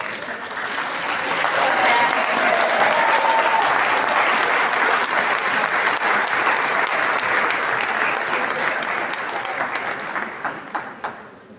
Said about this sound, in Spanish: Con un doble aplauso recibimos a nuestro trabajador